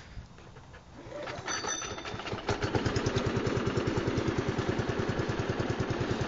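A Toro lawn mower with a Suzuki engine is pull-started cold and fires up after one pull, settling within a couple of seconds into a steady, close, rapid putter at idle.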